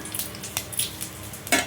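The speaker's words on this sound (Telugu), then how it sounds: "ఆవాలు జీలకర్ర కొంచెం చిటపట్లు ఆడిన తర్వాత" Mustard seeds and cumin splutter in hot oil for a tempering, giving close, irregular pops and crackles over a low steady sizzle, with a light clink of a utensil against the pan.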